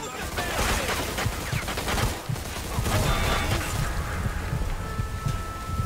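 Shotgun blasts and crackling gunfire from the Mafia 2 video game come in a rapid, loud barrage of sharp overlapping reports, close and dense throughout.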